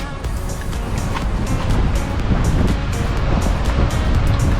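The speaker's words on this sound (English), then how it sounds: "Wow, them waves huge." Large ocean waves roll and crash in a steady, loud roar of surf at the shore, continuous throughout with wind rumbling underneath.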